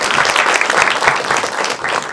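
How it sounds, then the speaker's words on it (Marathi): A roomful of people at an acting academy applauds loudly and continuously to welcome a returning student as guest. "सो परत एकदा खूप स्वागत आणि जोरदार टाळ्या होऊन जाऊ दे"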